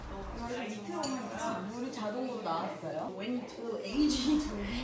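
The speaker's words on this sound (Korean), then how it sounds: "시음 중간에 이렇게 컵을 씻는 데도 있었어요" Wine glasses and cups washed at a winery tasting: clinks of glass and dishware mixed with running water, close by under people talking.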